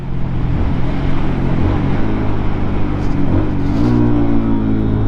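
A Lifan KPM 200 motorcycle engine on a break-in ride drones loudly and continuously, with the pitch dipping and then climbing as the rider downshifts and the revs rise, heard up close with wind noise.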